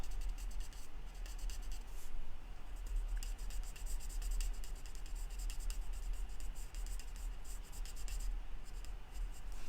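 Ink being worked onto scrapbook paper in wild foliage tones, a steady close scratching and rubbing that runs continuously without pause or voices.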